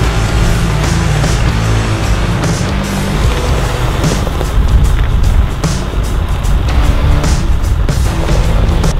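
A pickup truck in two-wheel drive strains up a backyard slope, its engine roaring steadily and loudly with rough, grinding texture throughout and no talk over it.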